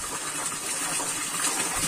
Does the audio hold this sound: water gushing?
yes